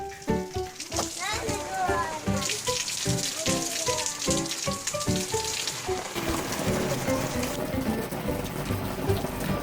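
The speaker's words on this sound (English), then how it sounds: "They made it into the rain." Steady outdoor rain in Scotland, a dense wet hiss and patter that continues throughout, with children's voices and other activity over it in the first half.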